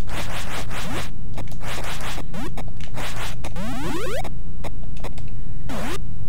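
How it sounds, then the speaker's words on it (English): Electronic sound effects from the Atari 7800 game Food Fight play alone and loud: bursts of rising and falling zaps and sweeps, resembling classic Space Invaders-style blips, with several rapid chirping runs. "that's a Space Invader sound"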